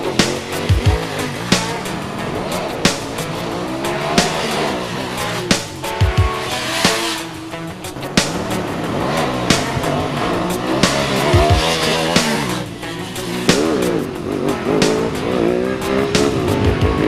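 Motorbikes do brake slides on a race track, their engines droning and revving loudly throughout while tyres squeal and skid, and sharp gearshift pops recur at a rough, steady rhythm.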